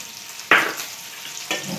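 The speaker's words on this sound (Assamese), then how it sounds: "সেইখিনি অকণমান ভাজি লওঁ" Onion, green chilli and ginger-garlic paste frying in a pan, a steady crackling sizzle with two sharp stir-scrapes or bursts of spatter standing out, close and alone without talk.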